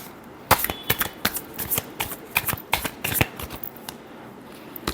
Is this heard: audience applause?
no